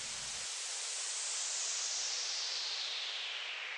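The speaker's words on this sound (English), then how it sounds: "this simple white noise sweep I made with 3x oscillator and a Fruity Free filter automation" A filtered white noise sweep made with a 3x oscillator and Fruity Free filter automation, a steady hiss whose brightness slowly rises and falls, loud and continuous with no other sounds.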